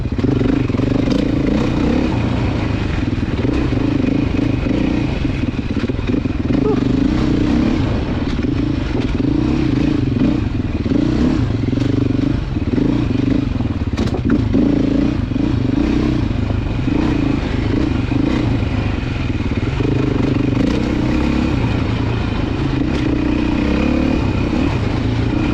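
A Beta 350 dirt motorcycle is ridden on a demo day ride, its engine droning loud and close throughout, with shifting revs and occasional clattering and scraping from the terrain.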